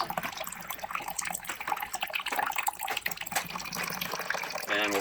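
Water gushes and splashes steadily as an electric water heater drains through its valve, a continuous close-up watery rush lasting several seconds.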